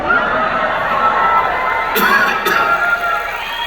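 An excited audience cheers and shouts continuously, a loud, dense wash of many voices with a couple of sharper whoops standing out.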